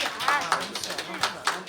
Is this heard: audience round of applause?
yes